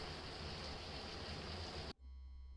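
Shower water runs steadily in a horror game bathroom, a loud, even hiss for about two seconds that abruptly cuts off when the water is turned off.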